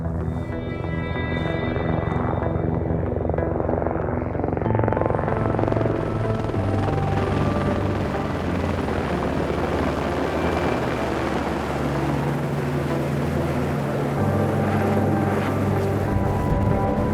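A helicopter drones steadily nearby in snowy mountain weather, its rotor beating and turbine whining continuously without pause.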